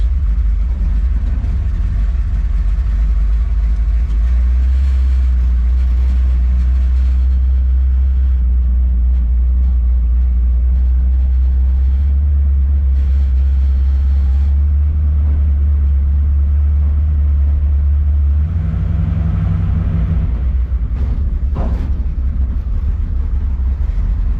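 A 1967 Chevelle with a big block V8 drives at high RPM, a loud sustained low engine roar that shifts pitch and surges near the end, heard from close by with no speech.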